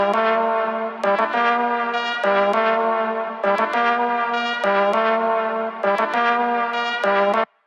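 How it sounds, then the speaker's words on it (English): A sampled trumpet melody from a Punjabi pop track produced in FL Studio plays loud and alone, with sustained brassy notes arriving in phrases and short attacks roughly every second and a half. "For the melody section, a trumpet sample has been used."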